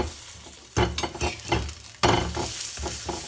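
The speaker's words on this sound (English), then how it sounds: "When you have oiled both the sides, you have to cook it on a very low heat." An oiled cheese paratha cooks on low heat on a pan, with a steady sizzle and a few sharp scrapes or presses of a spatula standing out nearby.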